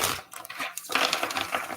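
A tarot card deck being shuffled by hand, with a dense run of riffling, flapping card sounds, close and fairly loud, carrying on steadily throughout with no talking.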